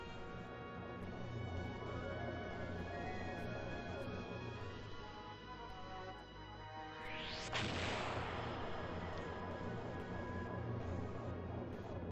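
Turn-based airship battle in Skies of Arcadia: Legends as three weapons fire in one turn, with game music throughout and a rising whoosh, then a heavy crash partway through.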